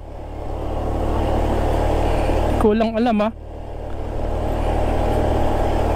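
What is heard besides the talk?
motorcycle engine while riding uphill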